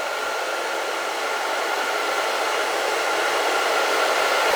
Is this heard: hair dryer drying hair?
yes